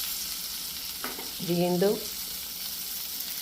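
Fish frying Kerala style in a pan gives a steady close sizzle, with a brief spoken word in the middle.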